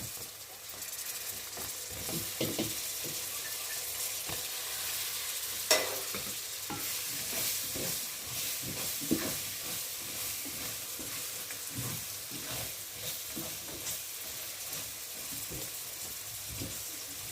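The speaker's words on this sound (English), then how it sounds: "I'll let my brinjal fry for 5 minutes, then I'll add my tomato." Brinjal fries with spices in a pot for a red fish curry, giving a steady broadband sizzle with occasional stirring scrapes and a few sharp clinks, close and continuous throughout.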